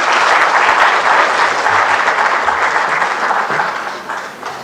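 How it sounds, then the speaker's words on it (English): An audience at a CxO panel discussion gives a loud, full round of applause to welcome the panelists and dignitaries, steady dense clapping that slowly fades toward the end. "I request the audience to welcome all the panelists and the dignitaries with a huge round of applause."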